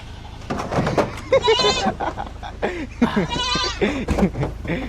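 Goats bleat repeatedly at close range, several wavering cries in quick succession, with people talking among them.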